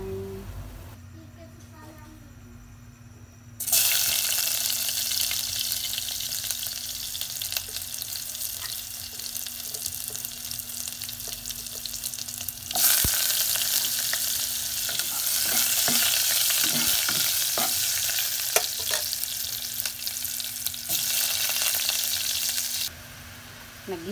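Squid cooking in a hot pan with no oil, giving a steady bright sizzle and frying hiss that runs for most of the stretch, with scattered stirring clatter and a brief quieter gap near the end.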